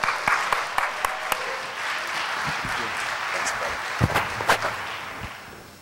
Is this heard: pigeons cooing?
no